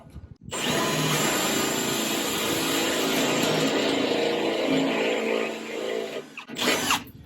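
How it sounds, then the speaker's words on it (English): A power drill bores a hole with a 5/8 Forstner bit during an aluminum patio cover installation, a loud steady whir that starts abruptly, holds for about six seconds, then stops before a brief second burst. "It's a 5/8 Forstner bit."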